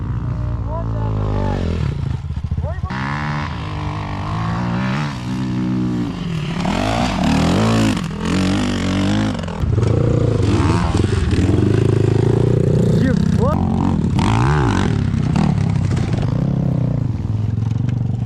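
Enduro motorcycles roar and rev loudly through a season-opening race, engines rising and falling almost continuously with some clattering, while people talk over the noise.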